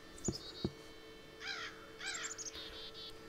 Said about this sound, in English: Yeah, there's birds outside.